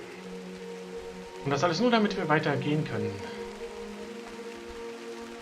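Steady rain falls in the Drizzlepath video game, a soft continuous patter under a low hum, with someone speaking briefly over it midway.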